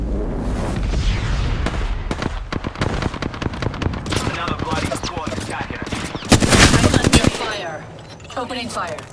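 Rapid automatic gunfire in the Apex Legends video game rattles in dense bursts, with a louder volley near the end and game voice lines mixed underneath.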